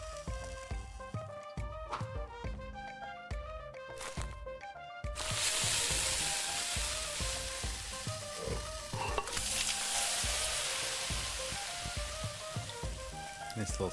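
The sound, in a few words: food sizzling in a pan in the video game Venba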